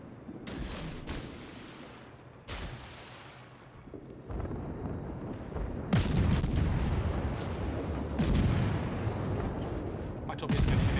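Warship secondary guns from a Wyoming battleship fire in the World of Warships game. Heavy booms come in bursts across the clip, some overlapping, loud and rumbling.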